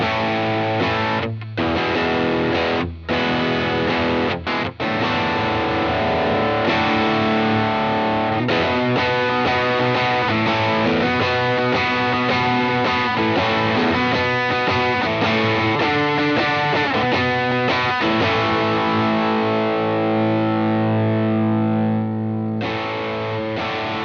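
Electric guitar strummed in open chords through a Lytt Effects First Rule drive pedal, loud and continuously distorted, with brief gaps between chord hits early on and sustained ringing chords throughout.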